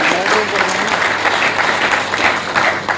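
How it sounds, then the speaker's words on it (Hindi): A crowd at a Delhi event gives loud, sustained applause to welcome Union Minister Manohar Lal Khattar, dense clapping that stays full and even throughout, with a voice faintly beneath it. "एक बार जोरदार तालियों से अभिनंदन करें"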